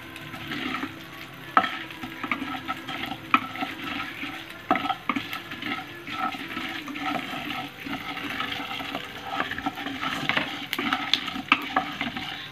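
Panch phoron spices crackle and sizzle in hot oil in a pan, a steady close frying hiss with small scattered pops, no talking.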